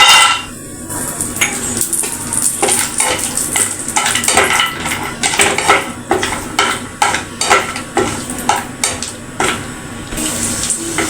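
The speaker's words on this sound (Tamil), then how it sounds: "அதிலே கொஞ்சம் முந்திரி பருப்பை வறுத்து எடுத்துட்டு அதிலே ரவையை வறுத்துக்குவோம்" Cashews fry in ghee in a pan for rava kesari, a steady close sizzle broken by sharp scraping and stirring strokes, some quick and rhythmic, with no voices.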